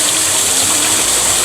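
A village stream and waterfall rush steadily, a loud, close, unbroken wash of flowing and splashing water with no voices.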